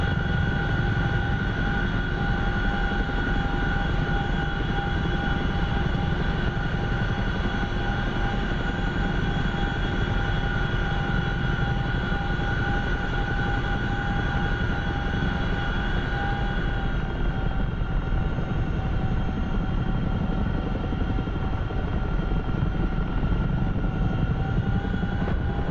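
A helicopter flies in the DCS flight simulator game, its steady turbine whine and rotor drone holding constant and loud for the whole stretch with no talk.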